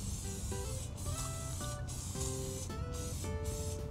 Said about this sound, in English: we're gonna go ahead and spray it with a little bit of olive oil